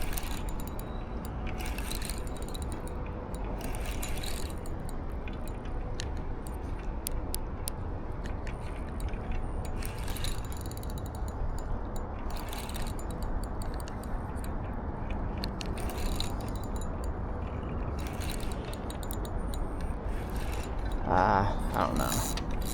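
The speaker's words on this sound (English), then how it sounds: "He did take off with the drag pulling." A fishing reel's drag clicks and ratchets in a steady, grinding stream on an early spring river as a fish pulls line. The sound is continuous and mechanical over outdoor background noise, with a few brief louder bursts.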